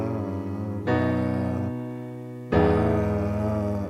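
Jazz-voiced piano chords from a Christmas song, with the right hand on flat 7, 2 and 5 over the left-hand bass. Three rich sustained chords are struck in turn, each ringing on, with no talking.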